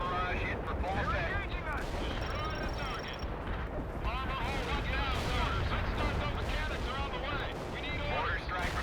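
An artillery barrage in the World in Conflict video game, heavy rumbling blasts and continuous explosions layered densely and loudly, with radio voices talking over the battle.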